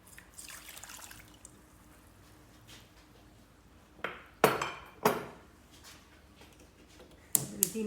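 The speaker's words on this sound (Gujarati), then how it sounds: "એક કચોરું પાણી નાખશું." Water poured from a cup onto sugar in a pan to start syrup for traditional Gujarati mohanthal, heard as a few short, close splashes and trickles after a quiet stretch.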